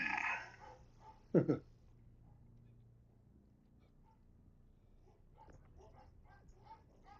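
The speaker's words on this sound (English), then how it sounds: "Dogs are fired up." Dogs bark in a Star Citizen game scene, with a short burst of loud barks early on, then quieter scattered yelps and background noise; a voice speaks briefly at the very start.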